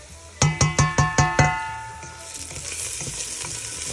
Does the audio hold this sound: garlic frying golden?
yes